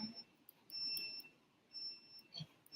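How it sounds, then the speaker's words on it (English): A UVC light's built-in buzzer alarm gives faint, thin high-pitched beeps in short bursts with brief gaps, quiet against a low background and with no talking. "Because buzzer is inside here."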